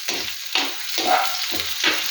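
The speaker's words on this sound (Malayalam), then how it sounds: "ചെറിയ ഉള്ളിയിട്ട് അതൊന്ന് വഴന്നു വരണം" Chopped small shallots sizzle and fry in hot oil in a pan, with steady crackling and about four louder surges as they are stirred, close and alone with no talk.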